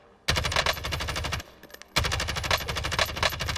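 Rapid automatic gunfire in the Call of Duty Warzone video game, two loud sustained bursts of fast shots separated by a brief half-second pause, close and dominant with no talking.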